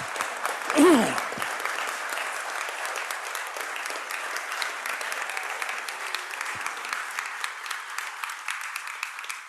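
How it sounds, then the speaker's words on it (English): An audience at an election hustings in St Michael's applauds the candidates, a dense, steady wash of clapping across the whole stretch, with a brief voice or noise near the start. "I think we should give them a round of applause."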